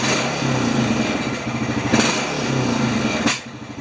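Honda Rancher 420 ATV with a dirty throttle body, its engine running unevenly just after starting, a close, steady mid-pitched chug with slight fluctuations and a sharp pop near the end.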